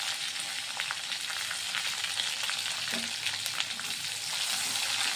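Garlic, torn green chillies and masala sizzle steadily in a pan for a spicy small-fish curry. The hiss is dense and continuous, with faint stirring scrapes underneath and no voices.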